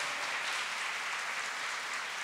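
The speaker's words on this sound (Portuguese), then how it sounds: "Jesus, pode aplaudir para valer, porque é para ele, o nosso grande líder servidor." A church congregation applauds together in a steady, dense wash of clapping that holds at an even level throughout, with no voices standing out above it.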